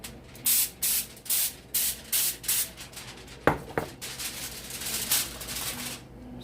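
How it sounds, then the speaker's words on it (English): Non-stick cooking spray hisses onto aluminum foil in a series of about seven short, evenly spaced bursts, close and fairly quiet, followed by a couple of sharp knocks and softer rustling. "We're going to spray it."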